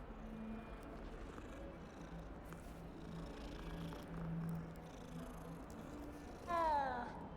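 A cat purring as it is petted in the video game Hogwarts Legacy, a soft low steady rumble running quietly under game ambience, with a brief brighter sound near the end.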